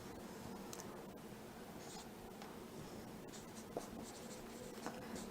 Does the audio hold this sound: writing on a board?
yes